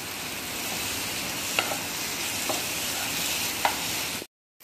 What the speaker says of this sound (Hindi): और इसको भी अच्छे से मिला दूंगी।